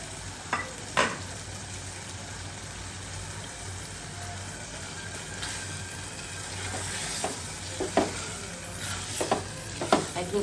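Dried fish stir-fried in a pan over low heat, a soft continuous sizzle broken by several sharp scraping stirs and clinks, close and moderately quiet, no voices.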